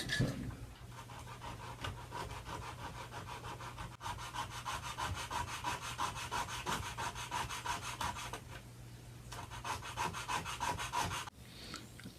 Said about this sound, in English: So we simply put a piece of sticky 100 grit sandpaper, stick it on, and start to sand.